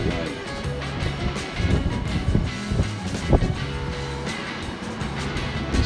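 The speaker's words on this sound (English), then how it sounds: "Strong gusts of wind." Heavy wind at Seal Rocks buffeting the microphone in rough, roaring gusts, with faint voices mixed in.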